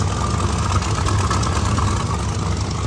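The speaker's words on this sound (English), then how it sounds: "Definitely sounds like an exhaust leak" A car engine with an exhaust leak idles with a steady rough rumble and a raspy, puffing edge, constant and close with no voices.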